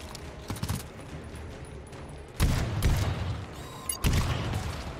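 An automated turret in the video game GTFO fires in rapid bursts, loud and close, with two heavier volleys standing out over a constant rumbling combat background.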